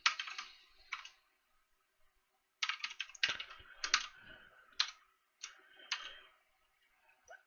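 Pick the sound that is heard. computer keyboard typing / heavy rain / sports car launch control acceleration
computer keyboard typing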